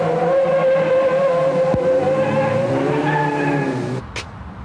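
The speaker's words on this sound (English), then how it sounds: "It's quite a normal four-cylinder engine, 1592cc. It's got twin Stromberg carbs, which give it quite good acceleration and speed." A Sunbeam Rapier's 1592cc four-cylinder engine with twin Stromberg carburettors runs close and loud in a steady, even drone. A brief click comes near the end, then the engine sound fades.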